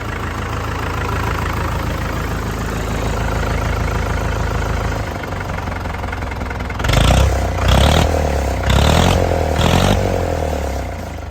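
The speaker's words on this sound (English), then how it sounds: "we have rebuilt the primary pump on a 1955 Farmall 400 diesel. It is running, it is making noise." A 1955 Farmall 400 diesel tractor engine, running after a primary injection pump rebuild, idles loud and close with a steady low chug, then takes several short rhythmic revs toward the end.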